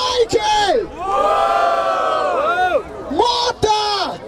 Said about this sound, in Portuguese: Barulho para cima do Big Mike